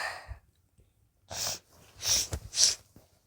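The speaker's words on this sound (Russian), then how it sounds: "Сейчас чихну." A person sneezes close by: a few sharp breathy bursts build into the main sneeze, with snorting inhales and quiet gaps between them.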